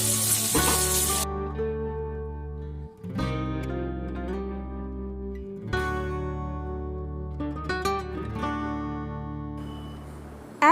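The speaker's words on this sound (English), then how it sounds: "Now add sliced onion." Sliced onion frying in a pan of hot oil for a Bengali rohu fish kalia, a steady close sizzle broken by stirring clatter and a few sharper bursts, with no voices.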